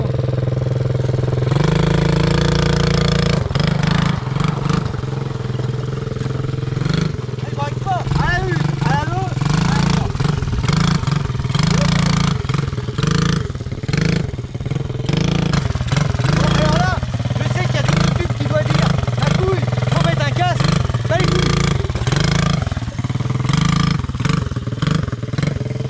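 A Kawasaki 650 quad bike engine runs loud and close, a rough continuous rumble with repeated revving surges, while people talk over it.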